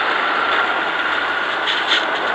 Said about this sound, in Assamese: আহমেদাবাদ গান্ধীনগৰ মেট্ৰ'